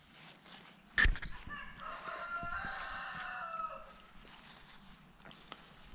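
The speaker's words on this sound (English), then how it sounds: "That's my neighbor's chicken." A neighbor's chicken in a backyard garden setting crows in a drawn-out call lasting a few seconds, heard at moderate distance after a sharp nearby click, then quieter clucking and outdoor ambience follow.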